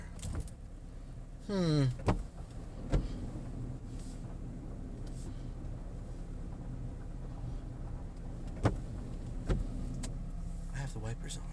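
A car's engine turns over with a short cranking whir, then settles into a steady idle. Clicks and clunks are heard, and a single word is spoken briefly.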